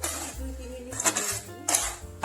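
Grapes and apples frying in a pan for a mixed fruit chutney as they are stirred, metal utensil scraping and clinking against the pan in a few bright bursts over a low sizzle, nearby and moderately loud.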